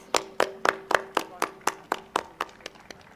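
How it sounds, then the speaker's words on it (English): Secondary Indus Altum Day school function: a single run of about thirteen sharp, evenly timed hand claps, close and clear, fading slightly toward the end, with a faint hum underneath. "Let's give them a resounding round of applause."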